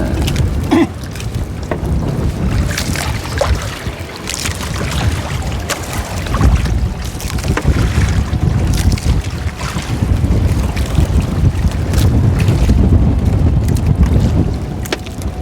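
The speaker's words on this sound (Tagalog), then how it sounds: "Malakas ang hangin." Strong wind blasts across the microphone out at sea on a small boat, a loud continuous roar with gusts and some water noise underneath.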